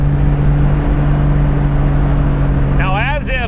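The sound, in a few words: 1953 Jaguar XK120 coupe driving at about 3,200 RPM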